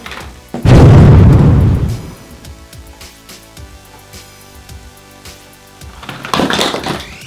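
A toy demolition-lab warehouse set goes off in a loud, close boom with a crumbling burst, then quieter clattering debris and a second rattling tumble near the end.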